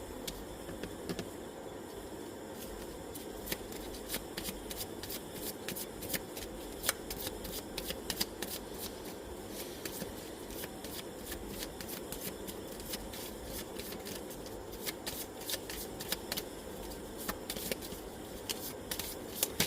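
Continuous soft riffling and flicking of playing cards being shuffled, a busy papery texture with scattered sharper snaps, fairly quiet and close, no talking.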